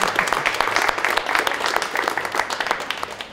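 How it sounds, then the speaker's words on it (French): Audience applause for the local community council at a business presentation, a dense, steady clatter of many hands clapping throughout, fairly close and loud, with no voices over it. "On peut applaudir la Comcom."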